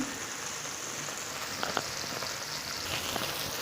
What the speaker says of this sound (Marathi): आपले बोंबील चांगले फ्राय होत आहे